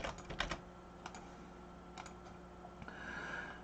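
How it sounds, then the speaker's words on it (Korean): Keys on a computer keyboard typed in a short burst of clicks early on, then a few isolated keystrokes spaced apart, fairly close and quiet over a steady background hum. "지울 때는 딜리트라는 걸 항상 타이핑 하도록 되어 있습니다."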